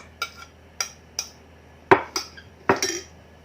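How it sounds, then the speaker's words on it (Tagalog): Mango being folded into an ice cream mixture in a bowl, heard as a handful of sharp utensil knocks and scrapes against the bowl at irregular intervals, close and otherwise quiet. "Ihalo na natin yung mangga."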